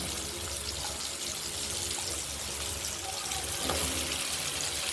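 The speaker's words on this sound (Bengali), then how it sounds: "কেটে রাখা ঝিঙেগুলো গরম তেলের মধ্যে দিয়ে দিচ্ছি" Sliced ridge gourd fries in hot oil in a home kitchen, making a loud, steady sizzling hiss that continues unbroken throughout.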